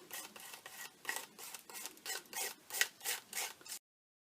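Texture medium is scraped lightly across an altered book page in about eight even, rhythmic rasping strokes, close and fairly quiet, with no voices.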